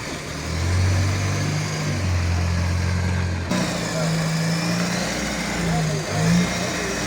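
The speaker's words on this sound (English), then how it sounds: "I'm enjoying the Land Rover lightweight. There's the go, guys." Military Land Rover Lightweight engine running steadily on the move, a low droning hum with slight surges, close and continuous, with wind and road noise over it.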